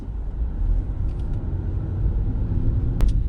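Car driven by a nervous learner during a driving lesson, a low steady engine rumble rising slightly as it accelerates, with a brief sharp click near the end.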